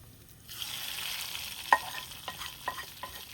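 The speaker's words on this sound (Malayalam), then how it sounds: "ഇനി നമുക്ക് കടുക് താളിക്കാം." Mustard seeds tempering in hot oil for tapioca, a hiss that swells in after half a second, then scattered pops and crackles, close and with no talk.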